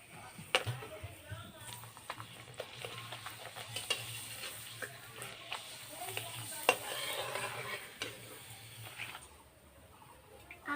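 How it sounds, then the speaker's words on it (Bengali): Homemade potato papad fries gently in oil over a low flame, a soft, intermittent sizzle with scattered spatula clicks and stirring, while a voice talks quietly at times. "পাঁপড়গুলো কিন্তু অল্প জাল দিয়ে ভাজতে হবে"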